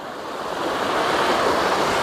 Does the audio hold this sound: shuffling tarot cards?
no